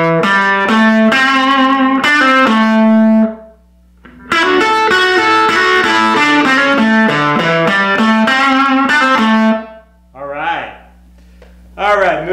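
Distorted electric guitar plays a fast minor pentatonic lick in quick legato runs with a short pause midway; a voice speaks briefly near the end.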